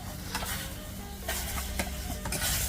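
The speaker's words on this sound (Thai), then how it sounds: "อันนี้ก็เปิดไฟแล้วก็นำปลาดุกลงเลยครับ" Minced catfish for a grilled-catfish Isan larb fries in a hot pan with fermented fish sauce, giving a steady sizzle broken by several sharp scraping stirs of a utensil against the pan, with no talking.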